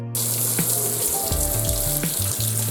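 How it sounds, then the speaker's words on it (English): Running tap water streams steadily over homemade smoked Polish sausage links being rinsed after smoking, a constant close hiss with small shifts as the links move under the flow. "Now we have to rinse link to stop cooking process."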